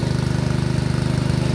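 A pump engine drawing water for a tomato field chugs close by in a fast, even, pulsing idle, loud and alone.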